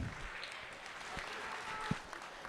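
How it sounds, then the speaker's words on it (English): A crowd applauding at a market hog show at a state fair, with steady distant clapping, faint and spread out in a large arena. "Let's give him a nice round of applause."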